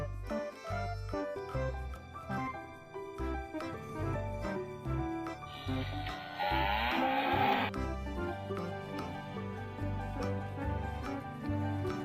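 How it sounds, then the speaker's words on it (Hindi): A cow moos once over a steady backing of music, the low drawn-out call rising clearly through the middle of the clip. "cow"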